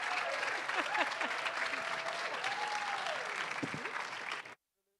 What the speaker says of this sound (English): Can we get another big round of applause?